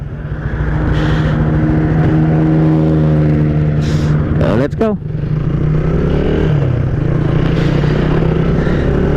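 A motorcycle rides a scenic road in Nabunturan at around 75, its engine humming loud and steady from close by as wind rushes past, with brief clatter midway and the rider speaking over it.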